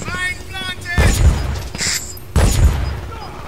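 Gunfire from the shooter game Brink comes as several loud booming shots and bursts in quick succession, close and heavy, with a voice talking in between.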